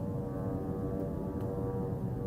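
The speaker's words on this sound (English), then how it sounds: "The sound you hear, this is, you know," A military drone flies overhead, heard as a steady, droning low engine hum with a dense rumble underneath, constant in level and without any talk.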